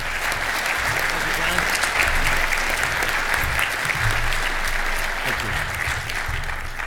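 Loud, sustained applause fills the room as an audience welcomes Dr. Anthony Breich to speak at the 2013 U.S. Professors of the Year Awards, steady clapping throughout with no voices on top.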